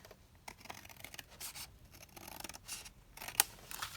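Scissors snip through paper for a handmade folio craft: a series of short, crisp cuts at irregular intervals, close and fairly quiet, with one sharper snip near the end and no talking.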